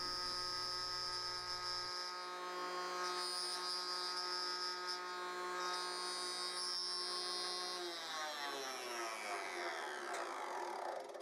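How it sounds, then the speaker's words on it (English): A router table cuts a quarter-inch deep, quarter-inch wide groove along 1x4 wood boards, a loud continuous high whine with a steady motor drone whose pitch shifts and sweeps as the board passes the bit, with no talking. "Over on the router table, I'm going to be cutting a 1/4 inch deep, a 1/4 inch wide groove in the bottom of those 1x4 pieces"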